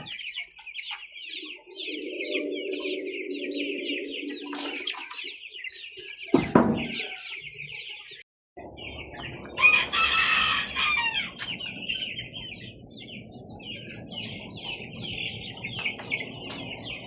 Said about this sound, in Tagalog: meron ako ditong mga pahabol na sisiw